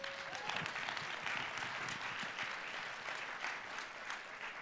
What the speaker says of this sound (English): Let's get David Bradley another round of applause